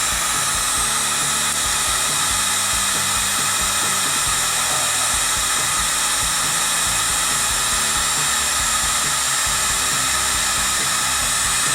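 A heat gun or hair dryer blows steadily for about twelve seconds, a loud, continuous whirring rush with no pauses, used to warm and loosen old decals.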